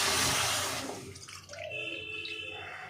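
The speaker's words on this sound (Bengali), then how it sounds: "2 বাটি জল দিয়ে দিলাম।" Two bowls of water pour into a pan holding a bowl of sugar for thin syrup, a loud rushing splash that fades within a second, followed by softer bubbling and trickling.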